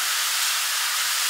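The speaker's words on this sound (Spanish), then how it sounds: "A mí me gusta sofreír bien la cebolla antes de agregar el ajo" Onion sautéing in a pan with salt, a steady, bright sizzling hiss that holds evenly at close range throughout the short moment, with no pauses or voices over it.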